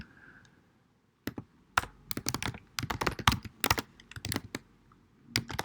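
Close, crisp keystrokes on a computer keyboard while R script code is being written, starting after a second of near silence and continuing as irregular bursts of clicks and taps.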